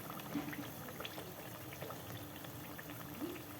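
Khaja pastry deep frying in hot oil gives a steady low bubbling and crackling texture, fairly quiet, with no speech over it.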